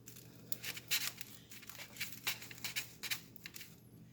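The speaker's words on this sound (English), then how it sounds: "So I'm going to go ahead and cut one of these open." Knife cutting through a golden-brown crispy fried taco filled with meat, cheese and salsa, giving a series of close, quiet crunching and crackling snaps at an uneven rhythm.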